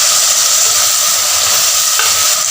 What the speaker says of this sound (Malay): Kita goreng-goreng macam ni untuk membuang rasa sayur yang mentah tu